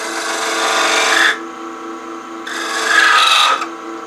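A woodturning tool cuts a bead into a spinning wooden goblet on a lathe, giving two loud, close scraping rasps of about a second each, separated by a short quieter pause.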